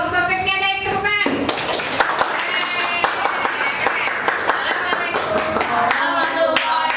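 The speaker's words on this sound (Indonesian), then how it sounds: "Sampai ada yang tepuk tangan." Class of sixth-grade pupils in an Arabic lesson at a madrasa clapping together, a close burst of many small hands in quick irregular claps after some singing voices, with children's voices mixed in.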